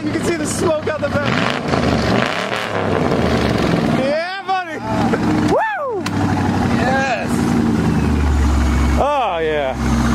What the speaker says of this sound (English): that's a good exhaust. Give a little rip.